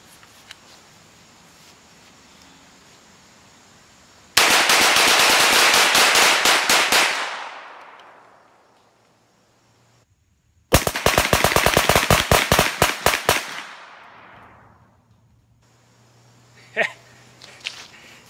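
A CZ Scorpion EVO-K short-barreled rifle fires two long rapid bursts, loud and close, each shot cracking in quick succession with an echoing tail, followed by a couple of isolated sharp clicks.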